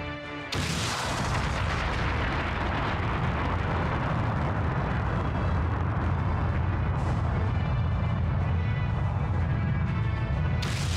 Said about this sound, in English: League Supergun is about to fire.